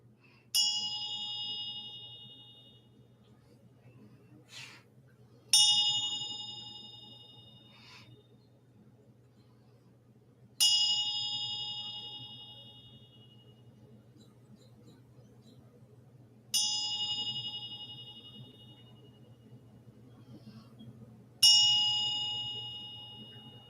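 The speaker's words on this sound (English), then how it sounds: "I love the sound of this bell." A clear, bright bell rings five times at a slow, even pace, every strike ringing on and fading away before the next, with nothing else heard but a soft background hum.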